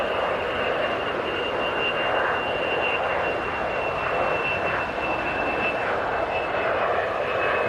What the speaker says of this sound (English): Is it just gonna be plane sounds for a few minutes?